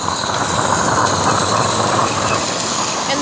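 A small Accucraft model steam locomotive chugs along steadily with a continuous mechanical rumble and faint rhythmic clatter, loud and close, with no talking.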